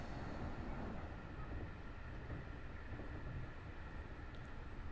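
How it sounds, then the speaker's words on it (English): A train rumbling along in the Train Drive ATS 2 video game, a dense continuous low roar with steady rolling noise and no breaks. "Hello, the train."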